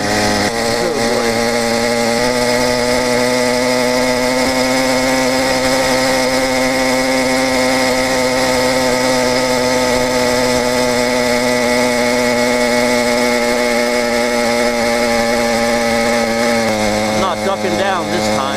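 A 100cc iron-sleeve motorized bike engine drones loudly and steadily while riding, a buzzing two-stroke-like whine holding pitch throughout, with a brief change near the end and wind noise around it.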